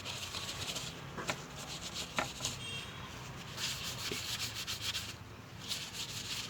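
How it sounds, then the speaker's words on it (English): Tissue paper gently wipes excess off a Hyundai Verna trunk latch during a repair, a series of soft, close rubbing and swishing strokes with brief taps between them. "We'll take one of these tissue papers and gently wipe off whatever is excess."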